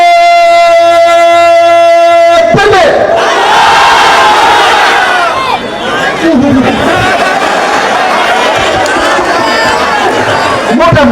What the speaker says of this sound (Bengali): বিবাহিত ভাইয়েরা তাকবীর দেন।